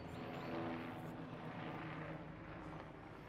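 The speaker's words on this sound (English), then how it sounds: "we'll wait a second for the plane to pass" Airplane passing overhead during an outdoor garden club talk, a faint broad steady roar of engine noise that holds evenly throughout, with no one speaking.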